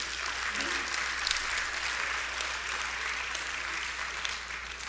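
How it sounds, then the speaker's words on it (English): A church congregation applauds, steady close clapping from many hands held at an even level with a low murmur of voices underneath. "If it's fair, put your hands together."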